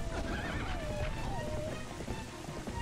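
A horse neighs and whinnies in The Legend of Zelda: Twilight Princess, with a wavering high call over a background of hooves clip-clopping, loud and close throughout.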